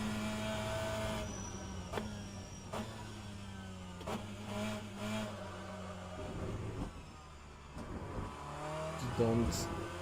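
A touring car in rFactor 2 on a wet Thruxton circuit brakes hard and then accelerates, its engine note dropping through downshifts before revving up again, with a voice talking over it at points.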